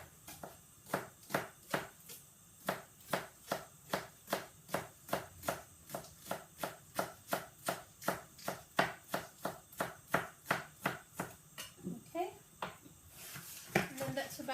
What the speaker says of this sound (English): next I'm going to chop our spring onions